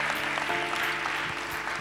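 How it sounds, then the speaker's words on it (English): Applause from an audience at a Bollywood tribute event, a continuous wash of clapping of moderate loudness, with faint tonal background music underneath. "Ladies and gentlemen, big round of applause for Rekha ji"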